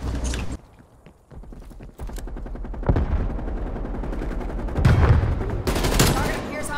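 Bursts of gunfire from the video game Call of Duty: Black Ops Cold War, with rapid shots, footsteps and louder volleys toward the end under a busy in-game mix.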